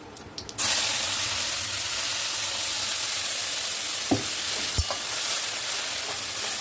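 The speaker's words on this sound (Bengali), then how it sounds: "এই তেলের মধ্যে মশলাটা কষিয়ে নেব।" A paste of ginger, garlic, onion and green chilli hits hot oil in a pan with a sudden loud sizzle, then a steady dense hiss continues, broken by a couple of faint clinks.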